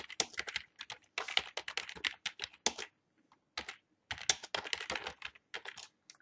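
Typing on a computer keyboard in Microsoft Word sounds as close, quiet bursts of rapid key clicks, broken by short pauses, with no voice.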